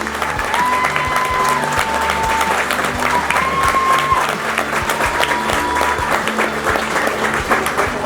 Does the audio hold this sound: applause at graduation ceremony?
yes